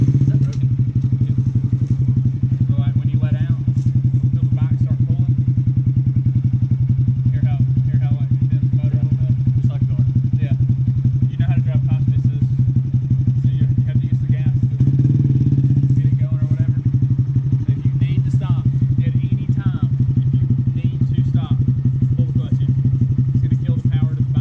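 Motorcycle engine running steadily nearby, a loud continuous low drone with small clatters and thumps, while a person talks over it throughout.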